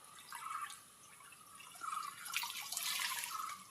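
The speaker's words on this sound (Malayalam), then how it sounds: "നമുക്ക് ഈ വെള്ളത്തിനെ ഈ കുളത്തിലോട്ട് വിടാം." Water from a hose running into a small backyard fish pond: a faint, close trickle and splashing that rises and falls unevenly, with no talk.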